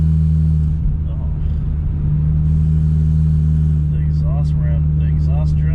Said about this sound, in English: The exhaust drone. I don't know if y'all can hear that.